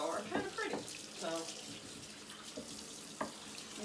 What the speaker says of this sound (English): Use some nice warm water.